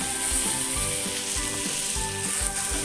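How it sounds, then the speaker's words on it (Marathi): Grated coconut roasting in a pan with onion for Goan chicken xacuti, giving a steady close sizzle and frying crackle throughout, with faint stirring scrapes at regular intervals and no voices. "हे सगळं आता भाजून घ्यायचं आहे."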